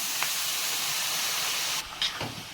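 Boiled banana stem frying in oil in a pan, giving a steady, close, hissing sizzle with a few brief louder spits and no talking.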